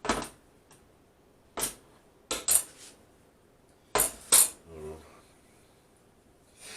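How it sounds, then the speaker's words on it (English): Clinks and scrapes of a utensil stirring oven-baked Mexican chicken with five kinds of vegetables in a baking dish, a few sharp metallic taps spaced irregularly, with a soft knock near the end. "I'm gonna give it a mix around."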